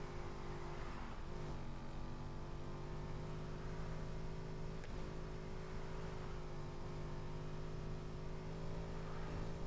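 Car engine droning and revving steadily through a handbrake turn in the Need for Speed Heat racing game, a continuous engine tone with no talking.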